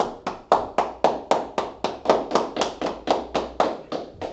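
Slow, rhythmic group clapping at an Atlanta law class, about fifteen evenly spaced loud claps in unison, each a sharp hit with a brief decay, with no talking.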